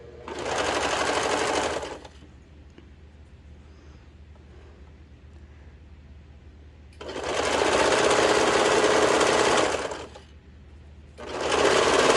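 A sewing machine runs a bell-bottom trouser seam in three loud, close bursts separated by quiet pauses.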